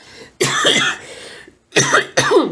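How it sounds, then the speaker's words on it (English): Several harsh coughs close to the microphone, one burst followed by a pause and then two more quick coughs. "I'm still having a cough a little bit here and there"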